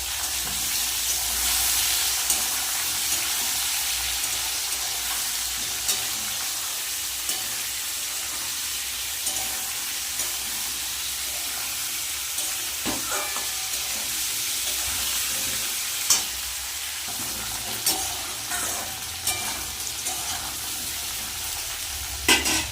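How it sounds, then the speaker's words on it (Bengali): Boiled jackfruit and potatoes lightly frying in a pan make a steady, close sizzle, with occasional spatula knocks and stirring scrapes punctuating the hiss. "এঁচড়টাও একটু হালকা ভেজে নেবো"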